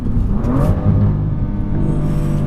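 A BMW M2 engine accelerating, a loud, steady low rumble that rises slightly in pitch as the car pulls, heard from close by with no voices.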